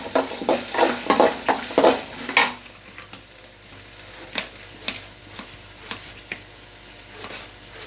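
Ginger pieces are tossed and sautéed in a pan for a crab curry: a quick run of loud, close scraping and clattering stirs over light sizzling, then sparser, softer taps and scrapes. No one speaks.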